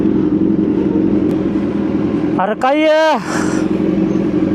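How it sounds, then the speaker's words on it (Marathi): Heavy road traffic in Kolhapur around a Kawasaki Z900 motorcycle: a steady low engine rumble, then a loud vehicle horn blast near the middle before the drone resumes, with a brief spoken remark. "असलं जाम ट्रॅफिक लागले सांगतो."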